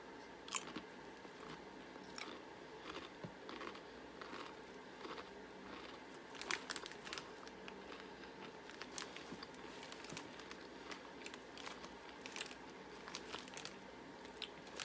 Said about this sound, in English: They taste like nacho cheese too.